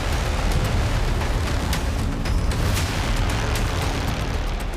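A powerful explosion near Azadi Tower in Tehran during an attack, heard as a loud, sustained, roaring rumble with scattered crackling bursts, with no voices.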